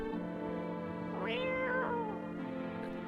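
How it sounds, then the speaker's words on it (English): A cat meows once in a horror video game, a rising then falling cry set over a steady droning, humming music bed. "Oh, look at the cat."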